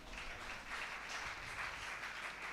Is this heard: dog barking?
no